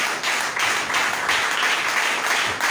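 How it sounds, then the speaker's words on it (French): A church congregation applauds and cheers, filling the room with loud, continuous dense clapping from many hands, steady throughout with a few rhythmic surges. "acclame le Seigneur"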